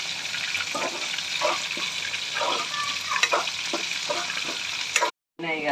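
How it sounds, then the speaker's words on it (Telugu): Chunks of food deep-frying in hot oil in a pan for a Rayala prawn curry, a steady loud sizzle with crackles and stirring clatter throughout, briefly cutting out near the end. "ఇలా మంచిగా ఇట్లా వేయించుకోవాలి"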